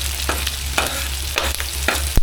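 Garlic sizzles in a frying pan for Bicol Express with string beans, with a steady frying hiss and repeated close scrapes and taps of a utensil stirring it.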